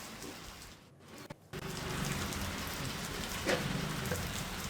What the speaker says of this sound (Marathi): ढगांच्या गडगडाटासह मुंबईत जोरदार पाऊस बरसलाय।